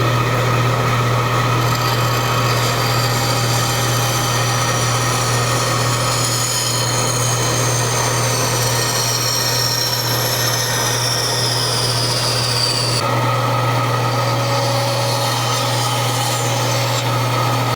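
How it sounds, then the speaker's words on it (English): A bandsaw hums steadily while cutting wood along a line left by a Forstner bit, a constant motor drone with a rasping wood-cutting texture throughout, no voices. "Over at the bandsaw, our work is pretty easy."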